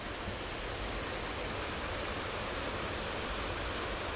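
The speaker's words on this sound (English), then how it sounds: "Vegetation, mini waterfall." Small waterfall in the California desert, fed by mountain snowmelt, making a steady, broad rushing hiss of falling water without variation or voices.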